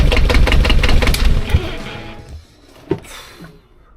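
A sailboat engine being tried after alternator work turns over and runs with a dense, loud rumble for about two seconds, then cuts back to a quieter, uneven sputter with a couple of knocks.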